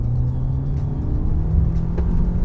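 A Cupra Ateca drives along twisting roads, a steady low engine and road rumble heard from inside the car with a faint whir on top and no talk.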